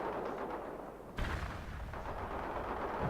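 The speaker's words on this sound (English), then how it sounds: "APC is returning fire." Armored personnel carrier returning fire in the World in Conflict strategy game, a sudden loud burst at about one second followed by rolling gunfire and rumble amid continuous battlefield noise.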